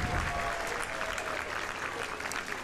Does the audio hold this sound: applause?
yes